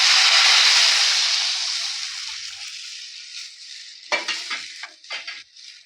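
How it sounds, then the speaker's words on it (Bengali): Half a kilo of milk goes into a pan of fried vermicelli for a Bengali-style semiya pudding. A loud hissing sizzle fades steadily, then a few short clinks and scrapes of a utensil against the pan follow. "আমি এর মধ্যে আধা কেজি দুধ দিয়ে দিচ্ছি।"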